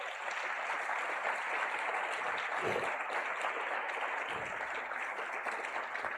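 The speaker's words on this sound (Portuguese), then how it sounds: "Você pode aplaudir o Senhor Jesus?" A church congregation applauds during a Portuguese-language worship service, a dense, steady roar of clapping from many hands that fills the room throughout.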